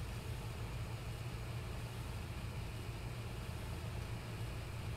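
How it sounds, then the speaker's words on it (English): A vehicle engine idles in Farming Simulator, a faint, steady low drone that hums on without change, with no talking over it. "I can hear your engine running."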